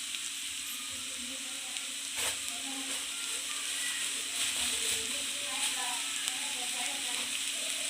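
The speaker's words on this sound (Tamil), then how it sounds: "இந்த டைமில் கொஞ்சமாக கருவேப்பிலை போட்டுக்கலாம்." Garlic and curry leaves sizzle steadily in hot oil for a garlic chilli chicken, a close, continuous frying hiss with faint stirring scrapes and a brief louder burst partway through.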